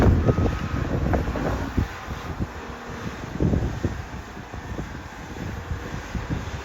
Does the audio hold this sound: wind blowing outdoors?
yes